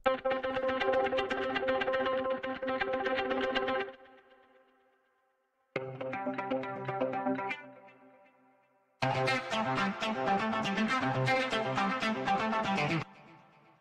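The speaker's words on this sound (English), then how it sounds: "So there's a guitar loop there" Looped electric guitar phrases with effects, played in three bursts separated by short silences, each section a slightly different variation.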